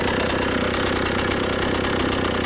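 A motorcycle engine runs steadily up close on a farm, a loud continuous mechanical rumble with a throbbing, knocking pulse and no talking.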